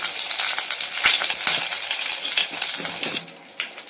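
Mustard seeds and curry leaves sizzling in hot oil, a loud crackling spatter with sharp pops that briefly drops away near the end, then flares once more.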